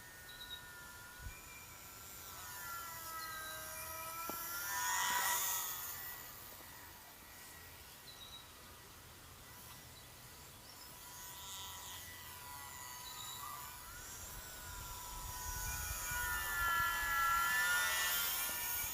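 An ultra micro RC plane buzzes thinly overhead, its tiny motor whine rising and fading as it passes near and far while being tossed around by gusting wind.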